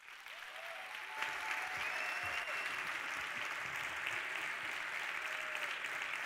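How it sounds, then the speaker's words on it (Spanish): Audience applause for a speaker at a FameLab 2017 semifinal science-communication event in Barcelona: steady, dense clapping from a large crowd that holds at an even level throughout, with no talk over it. "un aplauso muy fuerte y muy cálido para Margarita Sánchez."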